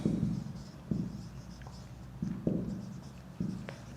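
Pen or chalk writing during a physics lesson on dimensions, heard as a series of soft scratching strokes in short bursts, fairly close, with no talk.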